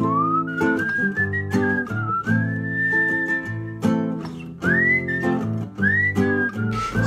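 Whistled melody of a song, loud and close, with sustained sliding notes over strummed guitar chords in a steady rhythm.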